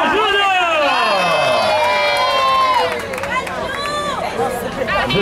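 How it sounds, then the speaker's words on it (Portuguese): A large crowd at a public romantic surprise in Tatuapé, São Paulo, cheers and shouts loudly and continuously, excited voices overlapping in a dense, close roar. "Uma salva de palmas, galera!"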